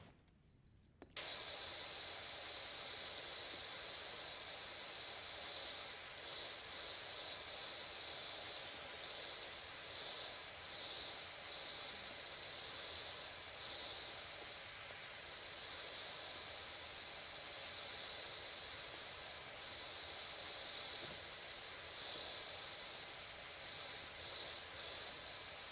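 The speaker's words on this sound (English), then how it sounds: "the floor cleaner sounds really nice" Steady, bright hiss of a floor cleaner spraying in the video game Powerwash Simulator 2, starting after a brief quiet moment and continuing evenly with small flutters, fairly soft and without voices.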